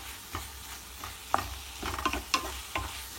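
Chicken hearts fried dry with spices are stirred in a pan, a quiet, steady sizzle broken by soft scraping strokes every half second or so.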